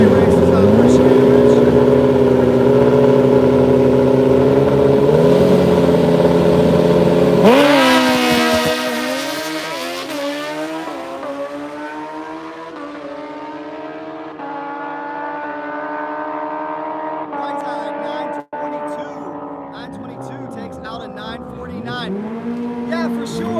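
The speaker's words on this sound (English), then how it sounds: "good old-fashioned Suzuki Hayabusa versus the X14 battle" Suzuki Hayabusa and X14 drag-racing motorcycles launching at a drag strip, engines screaming loudly through rising gear pulls before fading into the distance, with a sharp shift break and the whine receding over many seconds.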